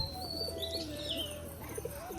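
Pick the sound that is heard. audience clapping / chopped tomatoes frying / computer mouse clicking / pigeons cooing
pigeons cooing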